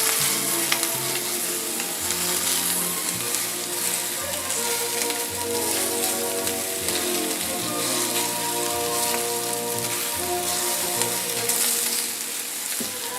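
Homemade meatballs browning in a frying pan, a dense, steady, close sizzle and crackle throughout, loud and even with no talk.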